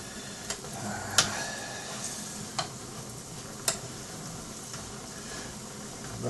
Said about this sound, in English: you can even fry this in the meat juices that you pre-cook your meat with a little bit